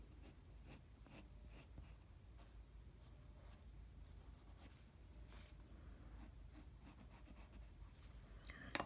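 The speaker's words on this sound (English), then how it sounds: "I'm going to draw the pencil line first." Pencil drawing a line on paper for a pastel portrait, close scratchy strokes repeating in quick bursts, quiet and intimate, with faint breathing-like noises and no clear speech.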